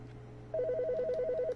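A telephone rings in The Stanley Parable: Ultra Deluxe, a rapid electronic warbling trill lasting about a second, clear and close after a quiet lead-in with a low steady hum beneath.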